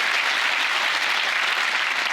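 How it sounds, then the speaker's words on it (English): Dense, steady applause from a theatre audience at a magic show, a continuous wash of many hands clapping at full strength, fairly loud and close, with no voices over it. "Give her a big round of applause, ladies and gentlemen."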